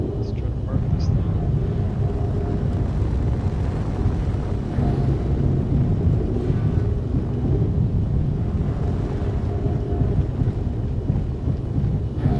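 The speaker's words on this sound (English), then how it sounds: "See the big thrusters, it's really powerful." Big spaceship thrusters in Space Engineers give a constant broad roar, steady and loud for the whole stretch, with a voice faintly audible under it.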